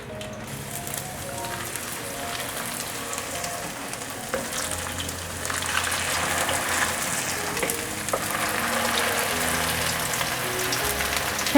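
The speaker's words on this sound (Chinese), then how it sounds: "锅内放入少许油，油热了，把素排骨放进来煎。" Vegan patties made from dry toast and white radish fry in a little hot oil in a pan, giving a continuous crackling sizzle that grows slightly louder as cooking goes on, with no talking.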